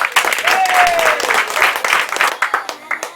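Theatre audience breaking into thunderous applause at a French performance, dense clapping with cheering voices and a rising whistle over it, loud and sustained before thinning into separate claps.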